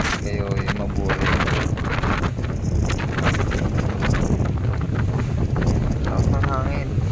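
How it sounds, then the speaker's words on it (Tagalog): Strong wind buffets the microphone aboard a boat travelling near islands off Pilar, Masbate, roaring steadily throughout with faint voices underneath. "Ang hangin."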